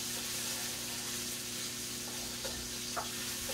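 Onion frying in hot oil in a pot for a snapper fish curry, a steady low sizzle and crackle with a couple of soft ticks of stirring, faint and unbroken.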